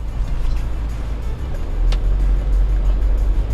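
A BMW 3 Series E90 320d LCI diesel sedan pulls away gently, its low, steady engine hum rising slightly as it moves off, heard from inside the car with no talk.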